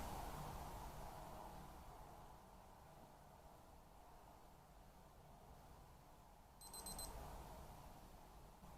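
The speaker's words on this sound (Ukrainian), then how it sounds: "І ось ви чули і бачили, як спрацьовує сигнал при автоповторі." A short burst of tiny, high digital beeps from a Casio DW-290 quartz watch timer on auto-repeat, faint against a steady background hiss.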